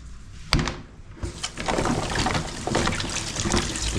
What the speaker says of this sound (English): Let's also wash the potatoes.